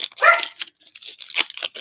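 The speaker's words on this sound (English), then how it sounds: "Now the dogs are barking" Dogs in a neighborhood bark in short, sharp bursts, close and fairly loud, with a few quick yaps in a row and no talk over them.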